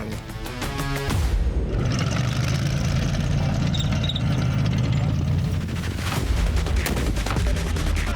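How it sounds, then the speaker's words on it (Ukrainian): Sustained loud bursts of gunfire and RPG grenade launcher blasts during a military training exercise, a dense continuous barrage close by with rumbling low end, after a brief quieter start. "Гранатометник відпрацьовує РПГ по імітованих ворожих позиціях"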